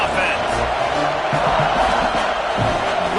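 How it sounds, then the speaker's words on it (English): A stadium crowd roars loud and steady in the NCAA 26 college football video game, a dense wall of noise with a play-by-play commentator talking over it. "This crowd trying to make life miserable for this offense."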